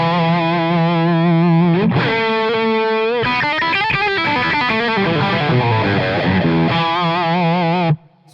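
Electric guitar run through a J. Rockett The Dude overdrive pedal at medium gain, loud sustained distorted chords and bending lead notes for about eight seconds before cutting off.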